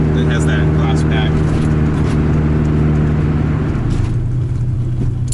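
A Honda Civic running with only a glass pack, no resonator or muffler, gives a steady, loud low exhaust drone that holds throughout with little change in pitch.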